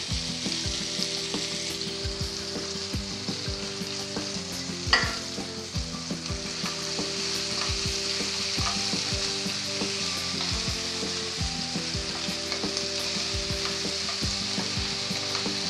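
Mixed vegetables, added after tomatoes, sauté in a pan for mix veg dalia with a steady, close sizzle, repeated stirring scrapes and a sharp clank near five seconds; nobody speaks.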